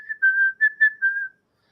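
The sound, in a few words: whistling imitation of a tune from Kill Bill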